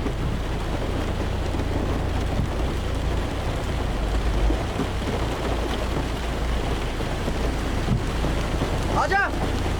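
Steady rain falls outdoors as a dense, even hiss that lasts the whole stretch, with low rumbling underneath and no voices.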